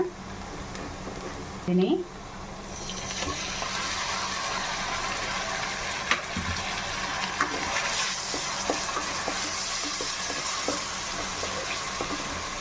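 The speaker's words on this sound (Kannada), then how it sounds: "ಇದನ್ನು ಕೂಡ ಒಂದು ನಿಮಿಷ ಚೆನ್ನಾಗಿ ಈ ಥರ ಫ್ರೈ ಮಾಡ್ಕೊಳ್ಳೋಣ" Kasuri methi frying with onions in a pan: a steady, fairly faint sizzle runs throughout, with occasional light scrapes and taps of a spoon, and a person talks over it.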